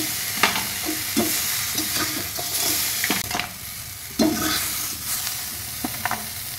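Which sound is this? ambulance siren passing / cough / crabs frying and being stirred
crabs frying and being stirred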